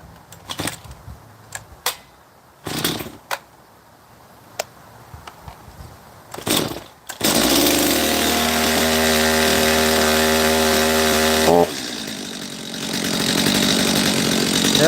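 A small two-stroke power tool engine started with the choke lever down: several sharp pull-cord yanks and sputters, then it catches into a loud, buzzy steady idle before the pitch drops and shifts near the end.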